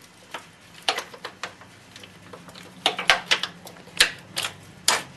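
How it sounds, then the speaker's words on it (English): Sharp metallic clicks and taps from fitting a bolt into a BMW F650 motorcycle near the chain roller, in irregular clusters of close, crisp knocks with short gaps between. "Now I'm going to get this bolt in from the outside."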